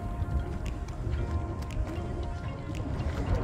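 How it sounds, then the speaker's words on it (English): Boat parts clink together at a harbor in Charlottetown, Prince Edward Island, giving scattered light metallic taps and rings much like wind chimes, irregular and moderately near over a steady low rumble of wind and water. "I know it's just boat parts clinking, but it kind of sounds like wind chimes."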